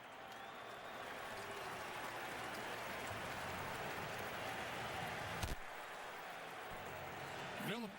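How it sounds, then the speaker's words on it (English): An NFL stadium crowd applauding its national champions during a Chargers at Colts game, a dense sustained roar of clapping with no talking, fading out near the end. "Once again, our national champions, a fine round of applause."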